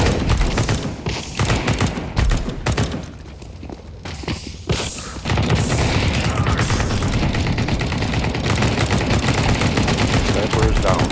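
Video game sniper fire in a firefight, dense bursts of close gunshots and rapid automatic fire nearly continuous, with a brief quieter lull midway before shooting resumes loud and sustained; footsteps and faint voices mixed in.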